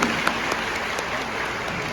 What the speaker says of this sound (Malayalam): എല്ലാവരും ഒന്ന് സന്തോഷപൂർവ്വം കൈയടിച്ച് അഭിനന്ദിക്കുന്നു